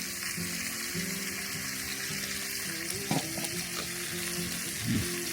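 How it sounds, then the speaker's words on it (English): Kimchi grilling in brown butter sizzles and fries steadily close by, with occasional stirring clinks and scrapes, outdoors at a high country salmon fishing spot in New Zealand. "Grilled kimchi tastes so good."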